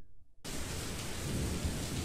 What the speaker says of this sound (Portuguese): Tá chovendo